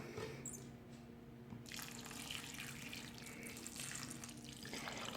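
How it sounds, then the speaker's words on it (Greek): Warm water pours over potatoes in a baking pan, a steady close stream that runs continuously throughout and swells a little partway through. "τώρα έχω λίγο ζεστό νεράκι να καλύψω τις πατάτες να ψηθούν πολύ ωραία και να μελώσουν"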